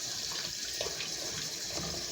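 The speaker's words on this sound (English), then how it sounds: "let me wash my hand" Tap water running steadily into a sink while hands are washed in a home kitchen, a continuous close splashing hiss at moderate volume with no talk.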